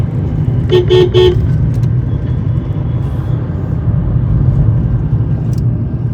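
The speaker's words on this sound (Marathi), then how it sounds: "इथे आता आम्हाला मध्ये परत ट्रॅफिक लागलेली आहे" Car horns honk in road traffic, a cluster of three or four quick loud toots early on over a constant heavy rumble of engines and road noise.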